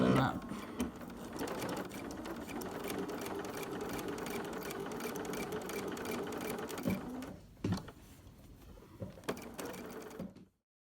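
A sewing machine runs a regular straight stitch through appliqué fabric with interfacing, a steady close mechanical whirr and patter for about seven seconds before stopping, followed by a few handling clicks.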